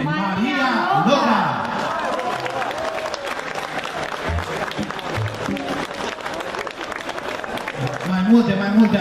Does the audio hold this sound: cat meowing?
no